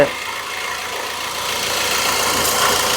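A car engine idles with a steady, low mechanical rumble that swells slightly louder toward the end, with no voices present.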